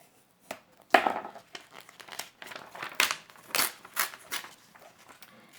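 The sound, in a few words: cutting a picture out of a paper page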